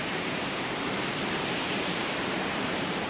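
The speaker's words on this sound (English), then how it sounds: "And here we are, Slotpool Falls." Slotpool Falls on Bear Creek pours through a canyon in the Arkansas Ozarks as a steady, broad rushing hiss of falling water, even and unbroken, moderately loud with no voices.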